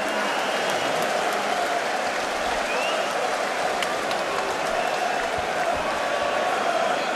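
A large boxing arena crowd applauds and cheers for Kostya Tszyu after his bout, a steady, dense roar of clapping and crowd noise that holds at full level the whole time.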